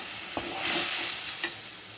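Tamarind water splashes into a simmering eggplant curry cooked in oil, giving a steady soft sizzle with a couple of sharp stir-scrapes, alone and close.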